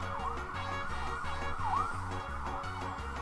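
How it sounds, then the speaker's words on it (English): Several ambulance sirens wail continuously a short way down a street, their rising and falling tones overlapping steadily with a low traffic rumble underneath; no one talks. "It's like 6 ambulances going by a little ways down the street."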